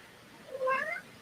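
A domestic cat gives a single clear, rising-and-falling meow, close and moderately loud, in an otherwise quiet indoor space.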